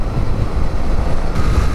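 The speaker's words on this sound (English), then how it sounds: "Oh, always windy" Strong wind buffeting close against the microphone on a windy hilltop, a low rumbling roar that gusts and shifts, with no voices.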